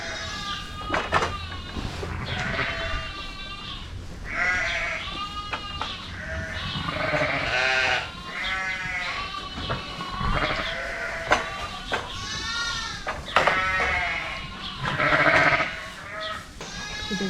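Sheep and lambs on a farm during lambing bleat continuously, many overlapping calls from ewes and young lambs rising and falling at close range.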